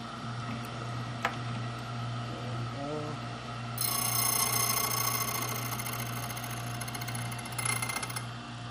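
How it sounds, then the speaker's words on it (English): A key cutting machine cuts a 7-pin Schlage Everest key: a steady motor hum that turns into a bright, sustained grinding whine partway through, close and continuous. "So I'm going to cut our key here."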